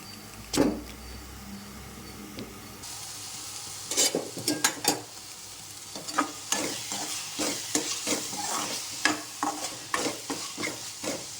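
Onion frying until brown for chicken curry, with repeated scraping stirs of a spatula against the pan over a low steady sizzle, close and fairly loud strokes coming in quick irregular bursts.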